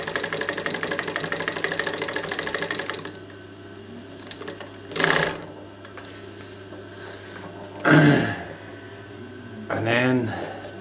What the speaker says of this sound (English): You can get it slowed right down to a wee stitch every now and then.